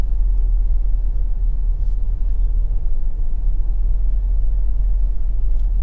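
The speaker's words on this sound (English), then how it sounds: "We'll just enjoy the drive with Fire Reid." Car driving along a road from Mandeville town toward Perth Estate in Manchester, Jamaica: a steady, loud low rumble of engine and road noise from inside, with no voices.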